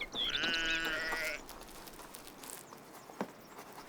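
Sheep bleat in open grazing land among oak trees, a loud wavering call filling the first second and a half, followed by quieter rustling and faint footsteps in the field.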